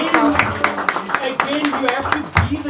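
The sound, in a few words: audience clapping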